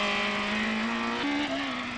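A ten-year-old BMW M3 rally car competes in a 1996 rally stage, its engine holding a loud, steady, close-up drone with a brief pitch shift near the end.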